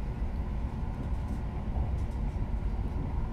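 A Greater Anglia Aventra class 720 electric train rumbles along from inside the carriage, a steady low droning roll with faint rhythmic knocks as it nears Billericay station.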